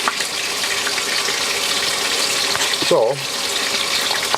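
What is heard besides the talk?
water running from a tap for hand washing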